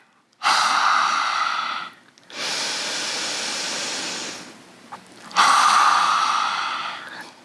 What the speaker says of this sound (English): making a loud exhale out our mouth